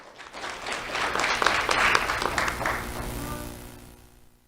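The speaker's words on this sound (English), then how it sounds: "Let's have a round of applause for Annabelle Meadow-Orr" Applause from the audience at a school awards ceremony honoring a fourth grader, a dense wash of clapping that swells, holds, then tapers off toward the end.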